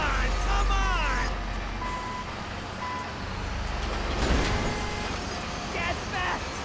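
Reversing beeps from a bulldozer at a construction site in the video game GTA 5, a few steady electronic tones over a loud engine rumble, with shouting and chaotic game sounds around them.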